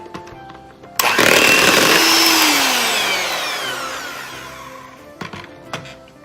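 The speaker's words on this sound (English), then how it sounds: "So I'm just going to cream this with my hand mixer until it's smooth." A handheld electric mixer creams butter and cream cheese in a bowl for cheesecake cookie dough, starting abruptly with a loud, steady whirring drone that slowly eases off, followed by a few short knocks as the beaters stop.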